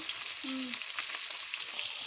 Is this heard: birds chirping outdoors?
no